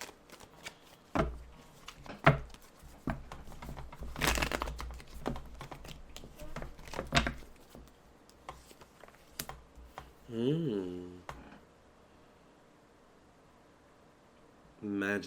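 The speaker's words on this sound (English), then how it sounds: "Just get a few more good shuffles." Tarot cards shuffled by hand in quick, irregular bursts of riffling and slapping, close and fairly quiet, with a brief stretch of voice partway through before a final shuffle.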